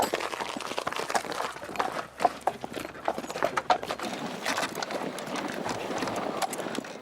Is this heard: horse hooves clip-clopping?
yes